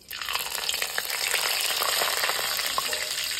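Black cumin seeds and slit green chillies hit hot oil for tempering with a loud, close, continuous sizzle and spatter that holds strong throughout.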